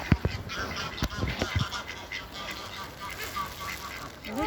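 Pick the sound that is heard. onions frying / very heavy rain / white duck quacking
white duck quacking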